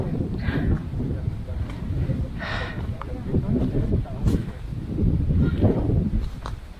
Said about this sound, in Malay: Nasib baik angin kuat.